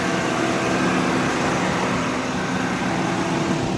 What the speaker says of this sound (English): The engine looks pretty good. Sounds pretty good.